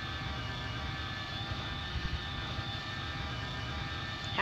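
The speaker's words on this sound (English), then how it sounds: "I'm just flying around the Vietnam War aircraft" A Vietnam War-era aircraft flies in a Roblox game, giving a steady, even engine drone that holds at moderate loudness throughout, with a brief sharp sound at the very end.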